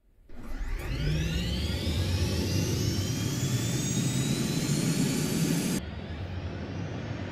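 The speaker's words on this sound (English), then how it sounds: "Here the JFS coming up, and we're going to wait for our RPM gauge right here to start spooling up" F-16 jet fuel starter spooling up in the DCS World flight simulator: a loud, steady turbine roar with a whine that rises steadily in pitch for several seconds, then cuts to a lower, steady hum near the end.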